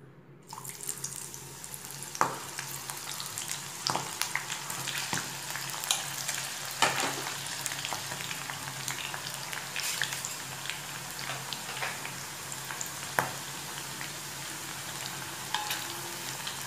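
Jackfruit pieces frying in oil over a medium flame, a dense continuous hiss and bubbling crackle throughout, punctuated by occasional sharper pops or utensil taps, with no talking.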